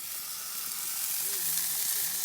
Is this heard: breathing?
no